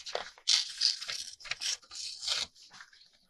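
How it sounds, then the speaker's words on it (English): Paper pages being torn from a book, several close, loud ripping tears in quick succession with short crinkling pauses between them, no talking. "And then I tear out 10 pages."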